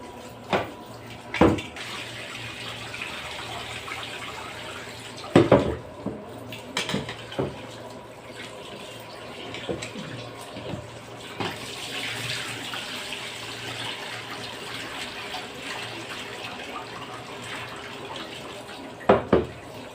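Shrimp are washed under a running kitchen tap, a steady water stream splashing in a sink with intermittent clinks and knocks of dishes.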